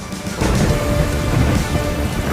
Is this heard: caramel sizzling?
no